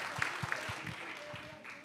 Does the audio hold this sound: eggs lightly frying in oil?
no